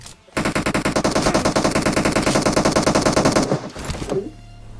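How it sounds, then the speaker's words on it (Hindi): Rapid automatic gunfire in a video game, a sustained loud burst of evenly spaced shots lasting about three seconds from an iron tower, then a few trailing clanks. "कोई लोहे के टावर से गोली चलाता है"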